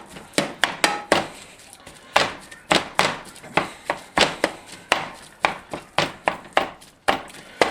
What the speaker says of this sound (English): It does so good, just chopping and cutting it up.